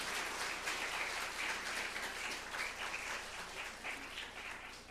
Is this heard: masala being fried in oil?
no